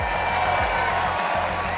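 Audience applause and crowd noise at the awards ceremony of the A2RL Grand Finals, an Abu Dhabi autonomous car racing league, as the third-place team heads to the podium. A steady, dense wash of clapping runs through the short stretch.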